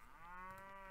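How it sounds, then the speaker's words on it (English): Cattle moo in the Mount & Blade Prophesy of Pendor video game, one sustained low, drawn-out call that sounds faint. "Get over here, cows."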